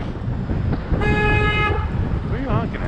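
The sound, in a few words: car horns honking in city traffic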